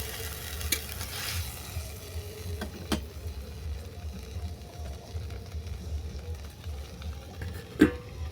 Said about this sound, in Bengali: এটাকে আবার অল্প করে নেড়েছে আমি একটা দিয়ে ঢেকে দেবো।